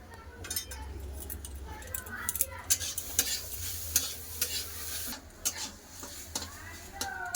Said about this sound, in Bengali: এবার ডালটা খুব ভালো করে ভেজে নেবো